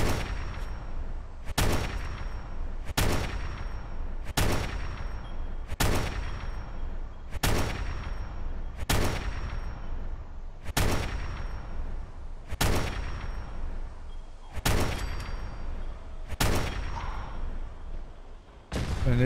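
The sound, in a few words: rapid rifle shots in video game Fallout 4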